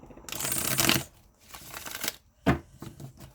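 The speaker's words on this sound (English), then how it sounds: "One more shuffle." Tarot card shuffling in quick riffling bursts: a long rustling flurry, a pause, then shorter crisp riffles, close and clear with no talking.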